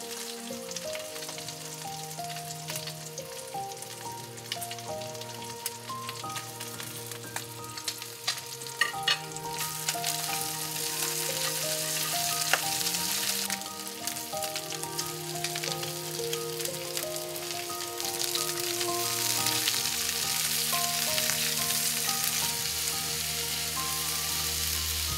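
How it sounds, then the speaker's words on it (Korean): Pork belly and onions stir-frying in a single pan with rendered fat and a garlic soy sauce, a steady loud sizzle with stirring scrapes over continuous background music, no talking. "양파가 투명해질 때까지 볶다가 소스를 두르고 조금 더 볶아준다."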